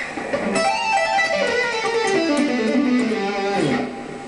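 Electric guitar two-handed tapping lick on the E blues scale: fast, fluid runs of legato notes sweeping down and back across the strings, loud and close with a sustained overdriven tone, no talk.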